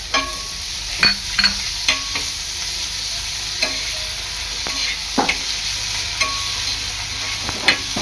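Ginger-garlic paste sautéed with browned onion for a dry bombil (Bombay duck) bhurji, a close steady sizzle punctuated by sharp clinks and scrapes of a spatula against the pan, with no talking.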